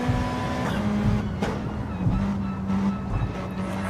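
Small RC drift car buzzing around a track, its electric motor whining in short bursts as the throttle is feathered through S-bends, fairly close with quick pitch changes.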